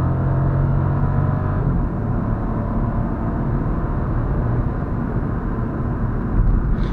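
Hyundai i20 T-GDI 100 car with DCT-7 gearbox accelerating, a loud, steady low engine rumble and road noise heard from inside the cabin, continuous with no speech.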